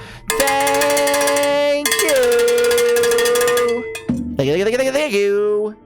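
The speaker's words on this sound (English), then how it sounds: "You get a jolly jangle of the cheer bell" A bright, sustained chime rings out on a livestream as a cheer bell, bell-like tones holding for several seconds before a brief pitch-bent ring at the end, loud and up front with a voice briefly heard.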